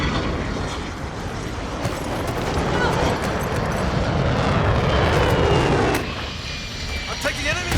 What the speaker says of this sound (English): Friendly VTOL inbound.